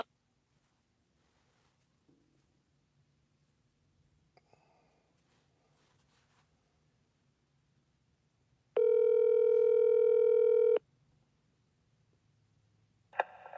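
A single voicemail beep tone sounds clearly for about two seconds after a recorded message, following near silence with faint background noise.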